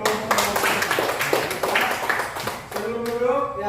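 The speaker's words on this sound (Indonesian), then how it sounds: "Tepuk tangan dulu dong buat kelompok." Group of students in a classroom clapping for a presenting student group, a dense burst of handclaps sustained for several seconds with voices mixed in underneath.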